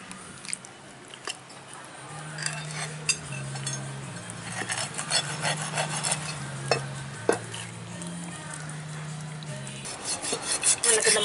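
A knife works through stingray fish being cleaned and cut, repeated close scraping and slicing strokes with wet rubbing sounds, over a low steady hum, no speech.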